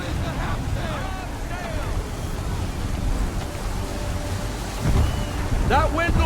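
Strong wind and crashing waves at sea surround a colonial flagship in the Assassin's Creed video game, a steady roaring wash with surges toward the end, while voices talk over the storm.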